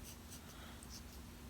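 A pencil lightly cross-hatches on paper, very faint soft scratchy strokes repeating in quick succession, close and quiet with no voices.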